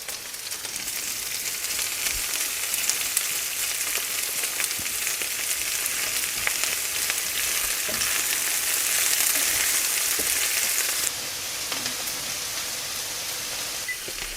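Carrots and onions fry in a pan for a sprout and sausage hash, giving a steady, dense sizzle that holds for most of the stretch, swells slightly near the end, then drops a little quieter.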